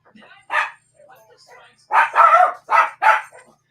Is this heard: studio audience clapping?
no